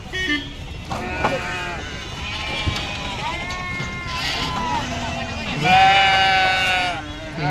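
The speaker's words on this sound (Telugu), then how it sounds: "గొర్రెలు అయితే బాగున్నాయి కదా." Sheep being unloaded at a market bleat repeatedly nearby, wavering cries that overlap one another, the loudest near the end, over a background of farmyard noise.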